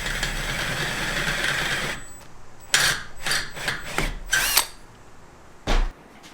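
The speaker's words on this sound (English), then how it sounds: "Let me drill these two brackets out and press these little spacer threads in." Power drill boring out windshield frame brackets for a traditional Ford hot rod, heard as several short, loud bursts of whining drilling close by, separated by brief pauses after steady workshop noise.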